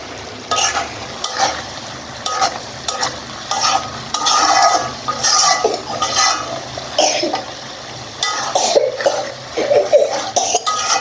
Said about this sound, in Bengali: এখন কিন্তু এটা অনবরত নাড়তে থাকতে হবে নেড়ে চেড়ে এটাকে মাখো মাখো করে নিতে হবে